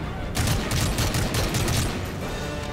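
Rapid gunfire from a Call of Duty: Modern Warfare 3 firefight, bursts of shots rattling loud and continuous with a dense, booming low end throughout.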